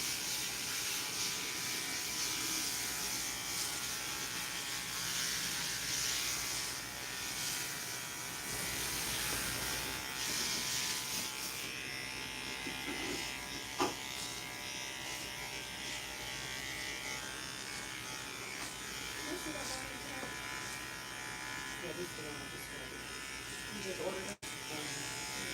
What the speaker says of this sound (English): I'm not allowing the clipper's teeth to scratch her scalp